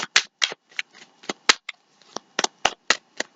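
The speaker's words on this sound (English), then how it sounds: "I am going to shuffle for your cards, though." Tarot cards are shuffled by hand in a quiet room, a dozen or so crisp riffling bursts in an uneven rhythm, close and clear with silence between them.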